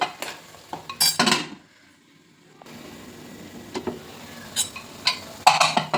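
Tomato puree masala is stirred as it fries in a pan over a low flame, with a spoon giving scattered clinks and scrapes against the metal and short quiet gaps between strokes.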